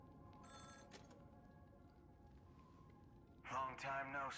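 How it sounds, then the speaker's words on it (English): Phone ringing in Honkai: Star Rail, heard as a brief faint ring early on over a low background bed, then a louder burst of ringing tones near the end. "Oh, the phone's ringing again."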